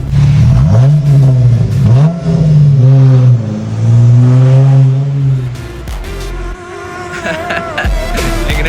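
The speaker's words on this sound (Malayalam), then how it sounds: "അപ്പൊ നമുക്ക് ഈ വണ്ടിയുടെ എക്സോസിനോട്ടൊന്ന് കേട്ട് നോക്കിയാലോ" A race car's exhaust roars loud and close through repeated revs, climbing and falling in pitch in sharp bursts before dropping to a rougher, crackling rumble near the end.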